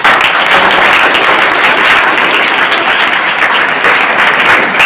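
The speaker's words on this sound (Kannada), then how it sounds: "ಎಲ್ಲರಿಗೂ ಒಂದು ರೌಂಡ್ ಚಪ್ಪಾಳೆಯನ್ನ" Applause from an audience at a farmers' scholarship event held by Biozyme Agro and a Chikkodi agricultural centre: dense, loud, sustained clapping throughout with no break.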